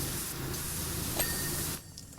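A pressure washer sprays in the video game PowerWash Simulator 2. It makes a steady, dense hiss that runs for most of the clip and then cuts off near the end, leaving quieter background noise.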